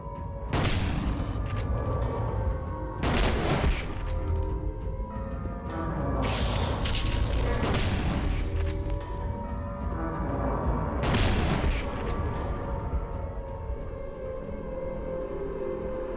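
Shotgun blasts from the video game Silent Hill 2 boom out loud and close, roughly four separate heavy shots spaced a few seconds apart over a dense, rumbling game soundscape.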